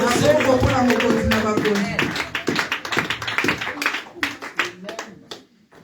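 A church service congregation claps loudly and together, first steady and then in scattered sharp claps that trail off, while a preacher speaks over the applause.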